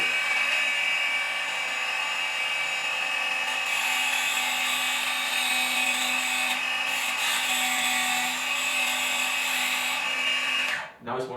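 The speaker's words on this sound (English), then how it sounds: "And this place is for sharpening your knife, stick" Small Xendoll hobby sanding machine sharpening a knife, a steady high-pitched whine running loud and continuous for about ten seconds, then abruptly cutting off at the end.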